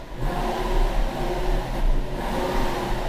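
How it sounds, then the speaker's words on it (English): Toyota Century with a Japanese 5-litre V12 engine, idling smoothly and then revving lightly. The engine gives a steady, even hum close by, with gentle swells in pitch and no talk over it. "Give it some revs."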